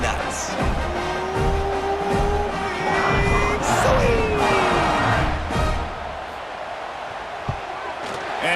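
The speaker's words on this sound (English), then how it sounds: "Whooping, going nuts in the stands." Stadium crowd in the College Football 26 video game whooping and roaring in the stands, a sustained dense cheer with whistles and shouts rising in the middle, mixed with announcer-style talk.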